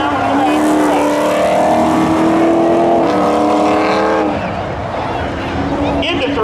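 Drag racing cars, including a black Camaro, roar at a speedway with sustained, rising engine tones that fade toward the end, while an announcer talks over the noise.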